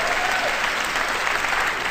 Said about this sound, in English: you see how they're clapping?